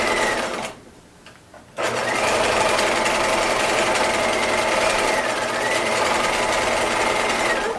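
A sewing machine runs in a rapid, steady whir while stitching a pajama seam, pausing briefly near the start before continuing at an even pace, close and alone.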